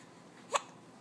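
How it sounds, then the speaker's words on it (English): A single sharp hiccup from a two-month-old baby, brief and close in an otherwise quiet room. "Oh, now you have the hiccups."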